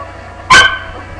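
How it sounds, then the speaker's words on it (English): A dog lets out a single sharp, loud bark close by, a brief burst standing out against a quiet room with no talking. "This is the dog that you hear barking in all the other videos in the background."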